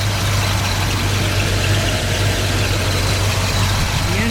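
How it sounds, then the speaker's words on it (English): A 1970 Buick Gran Sport Stage 1 V8 idles steadily with the hood open, a loud, even low rumble that runs unbroken throughout with no talking. "The engine sounds really good, it runs good."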